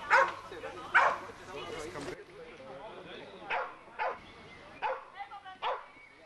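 A terrier barks in short, separated yaps during a police-style dog sport mock arrest, with talk running over the first couple of seconds before the barks continue alone at moderate distance.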